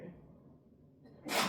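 One sharp, loud sneeze bursts out at the very end of a quiet lecture room moment on quantum optics, just after a single spoken word.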